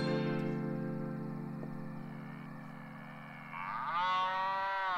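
A cow moos in a long, low drawn-out call, fairly close, with a second rising moo near the end over quiet background hum.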